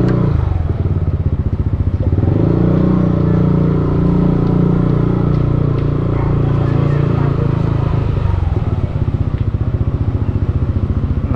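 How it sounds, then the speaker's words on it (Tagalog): A motorcycle engine runs loud and close, a steady throbbing idle with clattering, people talking faintly beneath it. "Narinig na ang motor ni Pisan."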